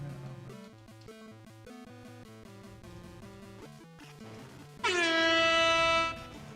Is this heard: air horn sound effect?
yes